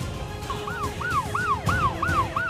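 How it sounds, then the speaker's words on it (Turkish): An ambulance siren wails in rapid repeated rising-and-falling yelps, fairly loud over road traffic noise. "Ambulans geldi."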